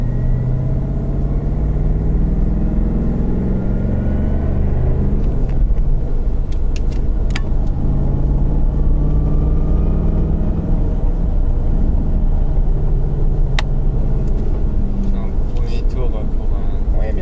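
Ford Mustang Bullitt V8 accelerating on a driving course, a steady loud engine rumble building throughout, with someone talking over it much of the time.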